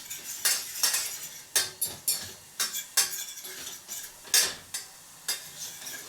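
Spices being heated and stirred in a pan for a Bloody Mary, with repeated metal-on-pan scrapes and clinks at an irregular rhythm, close and moderately loud with no talking.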